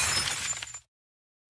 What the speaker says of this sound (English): Most people have dropped a glass, broken a window, or a picture frame,